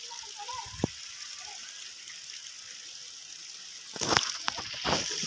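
Rainwater floods a paved village road after heavy rain, giving a steady wash of rushing water that turns into louder splashing and sloshing near the end.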